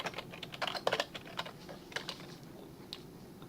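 Keys tapped on a computer keyboard while entering Python code for a beginner Android game, a close, irregular run of quick clicks with a busier burst near the start and scattered taps after.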